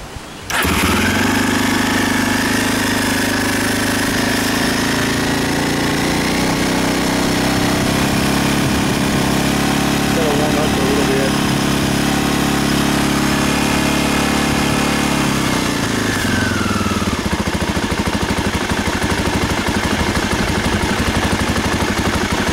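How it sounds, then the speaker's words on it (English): A 1988 Honda NX250 single-cylinder motorcycle engine starts and idles steadily on full choke while warming up, a loud close continuous putter that shifts slightly in tone after about sixteen seconds. "Run up the RPMs a little bit and let it get warm before I actually ride it."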